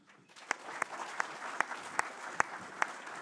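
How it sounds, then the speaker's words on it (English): Applause at a mixed martial arts press conference as fighters are welcomed up, rising from quiet into a steady wash of clapping with a few sharp, loud claps standing out near the front. "I want you to give them all a round of applause when I welcome them up."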